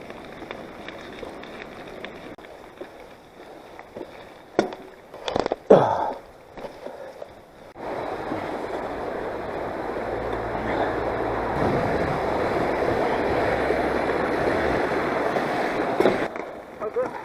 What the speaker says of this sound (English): So the main stream is overflowing a lot.